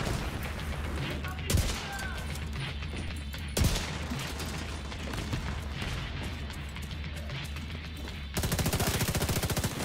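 Gunfire in The Division 2 aimed at red barrels, dense automatic bursts close up with a couple of heavier booming hits and a sustained rattling volley at the end, under a continuous game soundscape.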